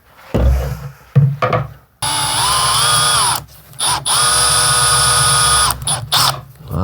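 Electric drill pre-drilling a tree branch for a branch-style lamp, opening with short bursts and then two long high whining runs that bog and change pitch as the bit bites into the wood, loud and close.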